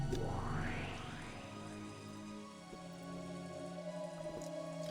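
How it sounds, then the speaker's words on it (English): Wind and rain ambience in the Umineko no Naku Koro ni visual novel, a steady wash of rainfall with soft droplet patter, fairly quiet and continuous, with a brief rising swoosh at the start and a low sustained tone underneath. "All that remained was the sound of the wind and rain"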